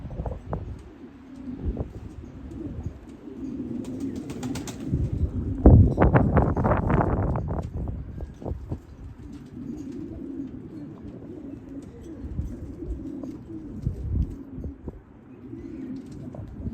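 Pigeons coo steadily inside a coop during pairing season, several birds overlapping in low rolling calls, with a louder burst of wing flutter and scuffling midway as birds squabble, then cooing resumes.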